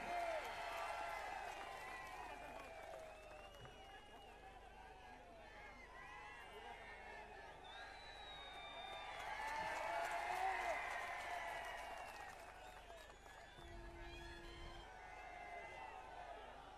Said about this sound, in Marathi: उमेदवार आले, जरा टाळ्या वाजून त्याचं स्वागत करा.